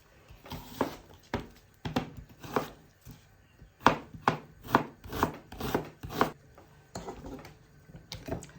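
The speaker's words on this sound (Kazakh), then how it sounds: "Тауық етін майда кубик етіп турап аламыз." A knife chops chicken breast into small cubes on a board in quick, uneven bursts of sharp thuds, some spaced out, others coming in rapid runs.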